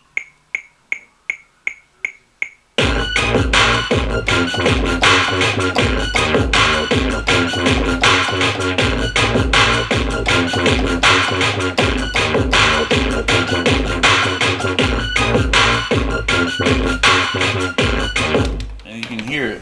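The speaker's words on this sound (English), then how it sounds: "I'm gonna add the bass line," A few sparse, evenly spaced clicks give way to a loud, dense dubstep beat with a heavy, wobbling bass line, punchy drums and a synth lead, playing continuously for about sixteen seconds before ending abruptly.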